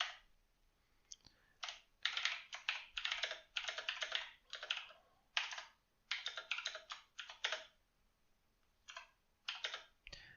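Rapid typing on a computer keyboard comes in repeated clattering runs with short gaps between them, close-up and moderately quiet over about ten seconds.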